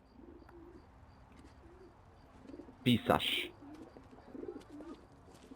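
A pigeon coos in the video game L.A. Noire, a short burst of close cooing and flutter that stands out over quiet ambience, with a voice speaking faintly.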